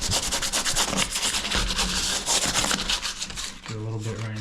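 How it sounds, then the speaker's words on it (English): Sandpaper scraping by hand over dried spackle on a drywall patch, a steady close rubbing with quick back-and-forth strokes that ends in a brief low hum. "once it's dry, gives me a little piece of sandpaper, and I'll just kind of give her a little coat around the edges"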